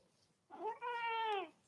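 A house cat meows once during an at-home live yoga session, a close, clear, drawn-out call with a brief lift at the start, heard alone in a quiet room.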